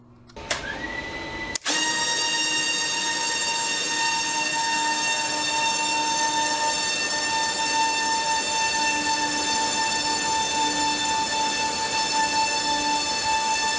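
FPV drone motors spin up on the bench with D-shot RPM telemetry running, starting in a short burst and then settling into a loud, steady, high-pitched whine of stacked harmonic tones that holds for over ten seconds with no voices.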